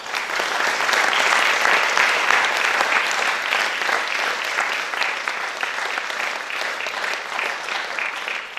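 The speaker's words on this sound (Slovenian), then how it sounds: "En aplavz za njih." Audience applause for performers at an international youth dance competition, dense sustained clapping from a large hall crowd that gradually thins toward the end.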